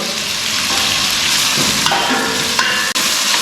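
Tomatoes sautéing in a pan for a yellow pumpkin sambar, giving a loud, close, continuous frying sizzle with stirring scrapes and a couple of utensil knocks near the end, no voices.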